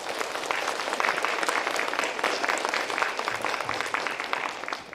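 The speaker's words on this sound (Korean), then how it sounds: "여러분 큰 박수로 맞이해 주십시오" Students at an ocean science workshop in Yeosu applaud to welcome Seoul National University professor Nam Sung-hyun, a steady, moderately loud wash of many hands clapping that goes on for several seconds with no one talking.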